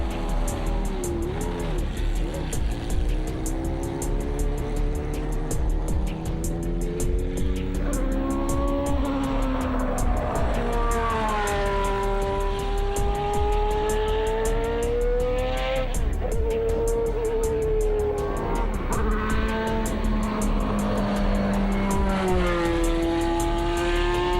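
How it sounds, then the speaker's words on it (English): An ex-Philippe Streff AGS Cosworth Formula 1 car lapping Circuit du Luc, its high-pitched engine note rising and falling steadily through gear changes as it accelerates and brakes, loud and close throughout without any talk. "I'm going to drive for 10 laps in an ex-Philippe Streff AGS Cosworth Formula 1 car"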